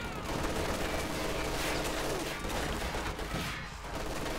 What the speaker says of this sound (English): Shots are being fired there.